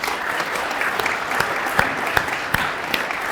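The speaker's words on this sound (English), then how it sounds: "let's give this group a round of applause" Crowd applause at a groundbreaking ceremony for a new nursing school building, continuous clapping with a few sharper individual claps standing out, fairly close.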